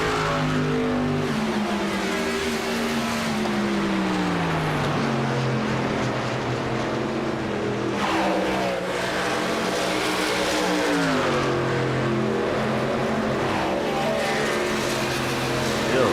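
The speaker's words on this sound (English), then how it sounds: "Side by side, racing each other." Race cars running side by side in a VSpeed Contender Series race, engines droning loudly and steadily with rising and falling pitch as they pass, continuous and close.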